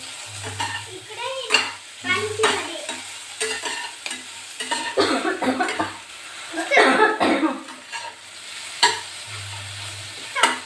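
Okra (bhindi) frying in a pan, with a low sizzle and repeated stirring scrapes heard under intermittent nearby talk, coughing and throat clearing.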